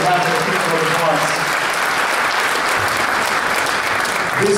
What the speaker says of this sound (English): So I really need everybody to give a round of applause to the elected leaders that are in the room.